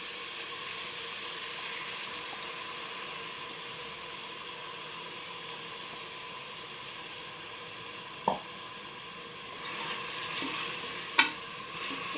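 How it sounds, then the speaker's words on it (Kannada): Quiet, steady sizzling and hissing as field bean lentils fry in a pot for sambar, with a couple of brief clinks partway through and no talking. "ಅವರೇ ಬೇಳೆ ಹಾಕ್ತಿದ್ದೀನಿ"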